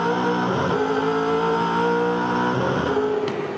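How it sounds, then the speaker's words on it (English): A loud V8 engine roars from on board a Ford FG Falcon V8 Supercar during a race at the 2012 Adelaide 500, holding high revs with brief dips between gear changes. "Riding in car now with Rodney Jane."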